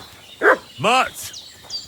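A dog barks in Kingdom Come: Deliverance II, two sharp close yelps in quick succession, with someone shouting alongside them.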